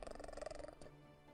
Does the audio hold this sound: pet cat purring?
yes